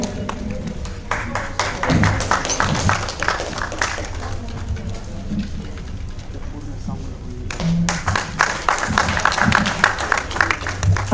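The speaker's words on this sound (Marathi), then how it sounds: "विद्रोही साहित्य विचार मंचाचे उपाध्यक्ष प्रकाश गोडके यांच्यासाठी विशेष टाळ्या" Applause at a literary conference honoring the vice-president of a rebel literature forum: broad, sustained crowd clapping with scattered taps and thuds, dipping briefly midway then swelling again, with no voices over it.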